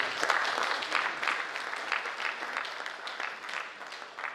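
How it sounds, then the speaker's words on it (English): Audience clapping at a university vice chancellor's media briefing, a steady round of hand claps from a modest crowd that holds through the moment and slowly thins toward the end. "I think we should clap."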